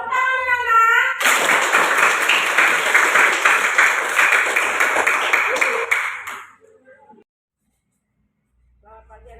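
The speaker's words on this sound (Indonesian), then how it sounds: "Tepuk tangan anak-anak" Schoolchildren clapping together in a classroom, a loud, dense burst of applause that starts sharply after a brief voice, carries on for about five seconds, then fades to silence before voices return faintly.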